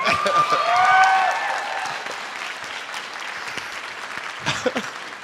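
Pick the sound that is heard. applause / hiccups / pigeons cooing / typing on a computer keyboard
applause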